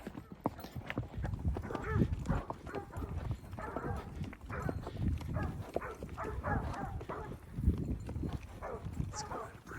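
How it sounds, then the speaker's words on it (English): Herding dogs bark as cows are driven, while a horse's hooves clip-clop steadily in the foreground. The barks come in scattered bursts, with some talking in the mix. "Oh, sounds like the dogs are already got something over here."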